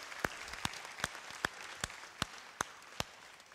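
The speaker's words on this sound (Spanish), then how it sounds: "¿Por qué damos un aplauso a todos los abuelos?" Clapping in a church service for the grandparents: eight evenly spaced, fairly faint claps in a slow, steady rhythm over a quiet room hush.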